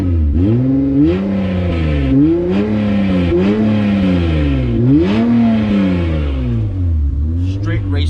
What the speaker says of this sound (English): Let me give you guys a little rev while it's already revving.